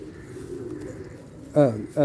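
Pigeons, a breeding pair, coo with a low, soft, continuous murmur, then a louder throaty call or brief voice near the end.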